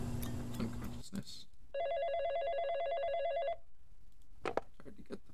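A telephone rings in the video game Coffin of Andy and Leyley, one steady electronic trill lasting about two seconds, with game sounds and a voice before and after.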